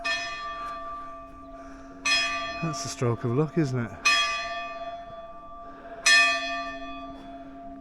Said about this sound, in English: Don't you just love the church bells?